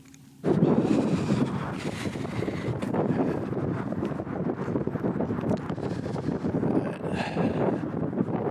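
Wind buffeting a microphone outdoors, a sudden loud rumbling roar that starts abruptly and keeps gusting unevenly, swelling and easing throughout.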